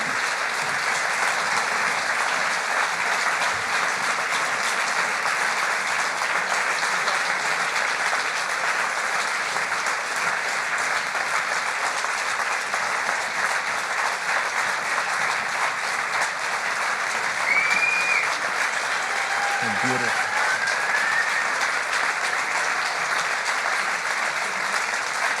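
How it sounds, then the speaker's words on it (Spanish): A full hall gives a standing ovation, with sustained, dense applause that holds steady and loud for the whole stretch, broad and continuous with no pauses. "Tenemos una sala llena y una ovación de pie"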